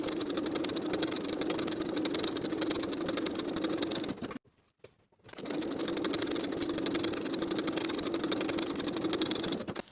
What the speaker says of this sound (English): Then I'll sew each side of the pocket in place with a 1/4 inch seam allowance for the front and back skirts